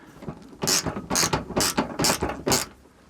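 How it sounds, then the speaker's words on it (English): A ratchet spins to loosen 10mm bolts behind the pulled-back wing of a Nissan Micra K11. Five quick, loud clicking bursts come close together at an even pace, with no talking. "So let's slightly loosen them off."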